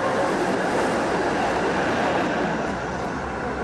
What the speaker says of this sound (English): Slowly, the tram rides over the track.